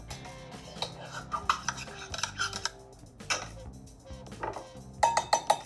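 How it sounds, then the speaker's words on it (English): A spoon stirs tuna salad ingredients with lemon juice in a bowl, making quick scraping clinks and taps against the dish in an uneven rhythm, close by. A sharper run of clinks comes near the end. "stir that in really well"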